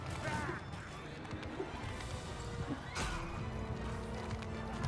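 A horse whinnies loudly in a chaotic battle in the video game Bannerlord with the Warhammer: The Old Realms mod, amid clip-clopping hooves, clashing impacts and the roar of fighting.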